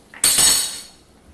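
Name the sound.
stirring mushroom risotto in a pot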